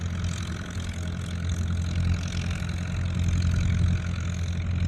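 A car's engine idles and hums steadily at low pitch, its exhaust note holding fairly even as the vehicle pulls away, loud and continuous without voices.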